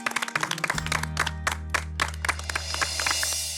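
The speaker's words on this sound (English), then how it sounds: "I think that calls for a round of applause" A studio audience on a food truck cooking reality show claps for a well-made parfait, a burst of applause with sharp overlapping claps that thins out, mixed over a steady low musical hum.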